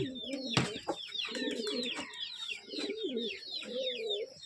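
A female Malay pigeon coos in low, repeated phrases, with many sharp chirps from other birds scattered throughout and one loud flutter-like burst early on.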